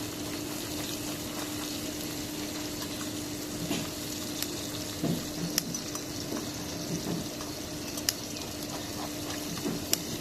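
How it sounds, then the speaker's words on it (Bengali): Fish fries in hot oil in a home kitchen, a steady close bubbling sizzle broken by scattered sharp pops and crackles, with no talk. "মাছটা সুন্দর করে ভেজে নিয়েছি"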